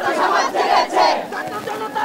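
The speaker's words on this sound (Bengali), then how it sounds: "এ সময় ছাত্রদের স্লোগানে মুখরিত হয়ে ওঠে শহীদ মিনার প্রাঙ্গণ" A large crowd of students chants protest slogans in unison on the Shaheed Minar grounds, loud and close, with rising and falling shouted phrases that fill the space.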